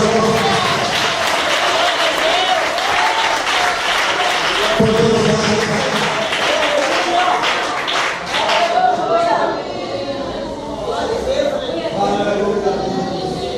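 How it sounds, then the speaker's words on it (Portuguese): A church congregation applauds during a pastor's service, a dense wash of clapping mixed with crowd voices and cheering that swells, then thins toward the end. "Você pode aplaudir esse lugar?"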